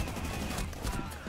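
Rapid gunfire from a Rainbow Six Siege match, a quick burst of several shots that sounds close and fairly loud, with faint game noise around it and no clear voices.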